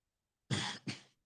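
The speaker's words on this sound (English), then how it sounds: "That was another cough." A person coughs twice in quick succession, two loud, close, rough bursts with a short gap between them, alone and with no talk around them.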